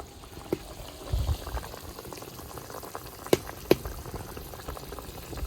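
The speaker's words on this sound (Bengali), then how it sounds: "মাছটা তো একটু সিদ্ধ হবে ওই জন্য অল্প একটু জল দিয়ে দিয়েছি" Sorpunti fish in mustard curry simmers with a little water in a covered wok, giving a soft, steady bubbling with occasional sharp pops and clicks close by, and no talking over it.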